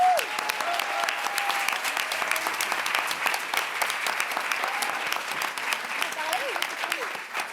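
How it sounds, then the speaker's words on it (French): Loud sustained audience applause at a Cannes film festival press conference, thick continuous clapping from start to finish with faint voices and a few whoops or calls rising through it. "Merci d'applaudir très fort Lilou Siovo."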